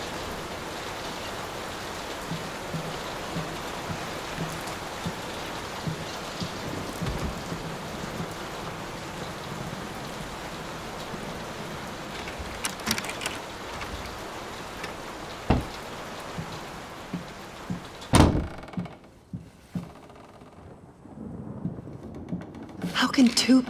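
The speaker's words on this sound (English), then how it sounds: "Will this storm ever run out of rain?" Steady rain hisses and patters close by in the horror video game Layers of Fear, with a few sharp knocks and thumps, then the downpour drops away near the end.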